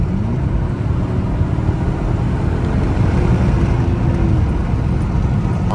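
An old HEMI car engine running steadily, heard from inside the car as a continuous low, even rumble with no change in pace, close and fairly loud, with no talking.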